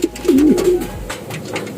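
A single soft, low pigeon coo close by, a brief rolling call followed by quiet background.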